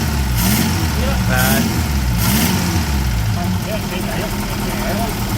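The reconditioned engine of a Ford Capri idles steadily with a low, even rumble, close and loud, while voices talk over it.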